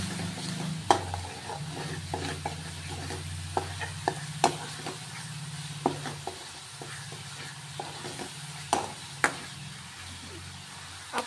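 Spices and ginger garlic paste sautéing in a pan, with a continuous low sizzle under repeated spatula clicks and scrapes against the metal, spaced irregularly and close by, plus a low hum in the background.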